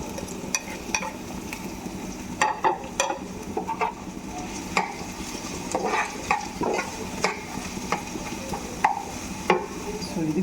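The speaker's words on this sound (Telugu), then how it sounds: "సో ఆనియన్స్ వేసుకుందాం ఇప్పుడు. ఆనియన్స్ లైట్ బ్రౌన్ కావాలి." Onions fry in a pan for a paratha and egg bhurji meal, giving a continuous sizzle broken by frequent scraping stirs and light utensil clicks against the pan.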